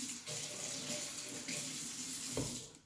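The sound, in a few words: rinsing hand under running tap water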